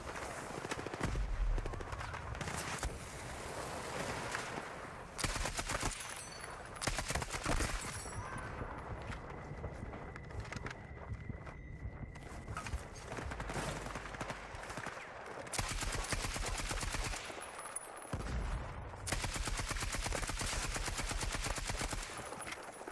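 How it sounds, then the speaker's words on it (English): Rapid automatic fire from an AK-205 rifle in an online shooter game, several dense bursts spread across the clip, loud and close amid game sound effects. "AK-205, here we come."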